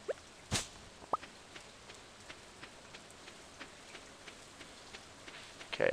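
Rain pattering in the farming video game Stardew Valley, a steady soft hiss with scattered drip-like ticks and a few sharper plinks, no voices present.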